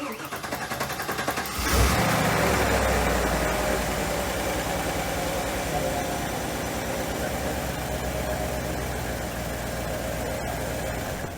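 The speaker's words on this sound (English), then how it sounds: "Bit of a long crank, but it starts good." A 1995 Firebird Trans Am cranks for about two seconds, fires up with a loud surge, then settles into a steady rumbling idle nearby.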